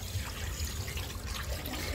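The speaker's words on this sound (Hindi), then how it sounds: "जब तक पानी साफ नहीं निकले तब तक मैं धोती रहूँगी इसको।" Water trickles and splashes softly over used tea leaves as they are rinsed, a faint, steady pouring and dribbling close by with no voices.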